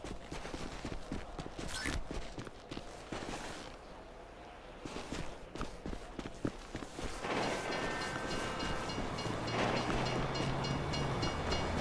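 A train rumbles past in Grand Theft Auto V, starting among bursts of gunfire and clatter, then swelling into a loud, steady roar of rolling wheels and a low drone over the final seconds.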